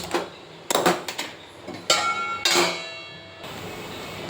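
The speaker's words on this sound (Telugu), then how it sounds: "నాన్ స్టిక్ బాండల్ పెట్టుకున్నాను" A non-stick pan is set down on a kitchen stove while chicken curry is being made, giving several sharp metallic knocks and clatters close by, with brief ringing between quieter gaps and no talk.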